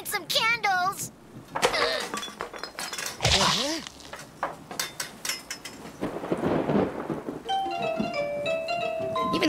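Cartoon thunderstorm with crashing thunder, gusting wind and rain tapping, mixed with voices, clinking and musical tones; booming bursts stand out amid busy, loud layered sound.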